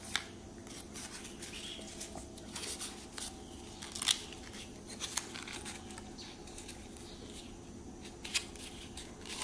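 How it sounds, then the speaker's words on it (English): Scissors trimming paper while crafting a paper bow, a series of quiet, close snips and light paper rustles spaced irregularly. "if there's an extra piece, you can trim it"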